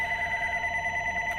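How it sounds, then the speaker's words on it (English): An office telephone rings with a continuous electronic warble, steady and clear throughout, fairly close, with no voices over it. "I'm sorry about the phones ringing, but apparently it's a busy day."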